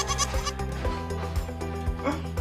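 A crossbred goat bleats repeatedly from close range in a cactus-filled garden in Taman Melawati, several short wavering calls spaced about half a second apart over a steady background.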